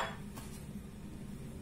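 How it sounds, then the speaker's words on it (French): Ice cubes dropped into a blender jar while making a smoothie, giving a few close clinks and clatters within the first half second, then a steady low room hum. "Je vais mettre mes glaçons"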